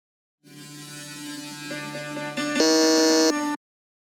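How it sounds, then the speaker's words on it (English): An electronic quiz game buzzer sounds once, a harsh, loud, sustained tone that climbs in pitch in steps and cuts off sharply after about three seconds, with no talk over it. "All right, that's the buzzer."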